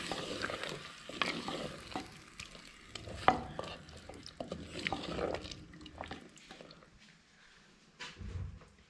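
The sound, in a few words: stirring desi chicken dum pukht in a pot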